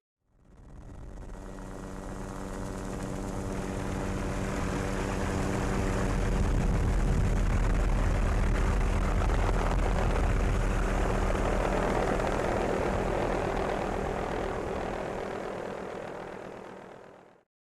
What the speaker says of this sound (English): Is that a plane, maybe?